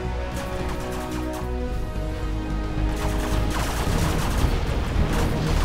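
Rapid, continuous gunfire and explosions from a Gatling cannon in Command & Conquer Generals Zero Hour, a dense, loud barrage that builds slightly toward the end with no voices over it.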